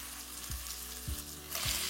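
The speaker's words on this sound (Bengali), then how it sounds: "এই পেঁয়াজটাকে আমাদের ভালো করে ভেজে নিতে হবে" Onion sizzles steadily in a hot pan for a soybean curry, with three evenly spaced dull scrapes or knocks of a spatula breaking the continuous hiss.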